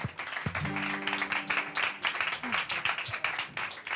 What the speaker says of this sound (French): Alors on peut l'applaudir plus fort que ça.